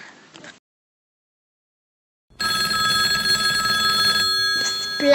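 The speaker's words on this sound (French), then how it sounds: "Il y avait le téléphone qui sonnait" A telephone rings loudly with a sustained bright electronic trill after a short quiet stretch, following a few faint soft sounds at the start; no one speaks over it.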